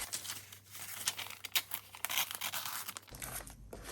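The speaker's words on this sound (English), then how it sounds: "So let's tear out a couple more pages." Paper pages being torn out of a Russian book for a junk-journal collage, a quick series of crisp rips and crinkles close to the mic, quiet room, no talking.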